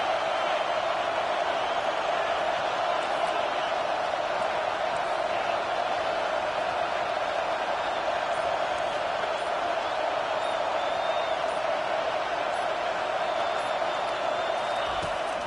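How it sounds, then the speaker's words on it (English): Steady roar of a large stadium crowd at a college football game against Florida, a continuous dense wash of voices at constant loudness with faint cheers rising within it. "Listen to the crowd energy here in the early going."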